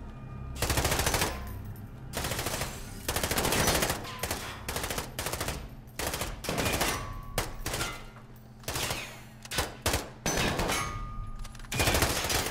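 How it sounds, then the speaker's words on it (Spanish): Loud bursts of rapid gunfire in Call of Duty: Modern Warfare come in repeated volleys with brief gaps between them, sharp and close. "Es que no veo de dónde vienen los disparos"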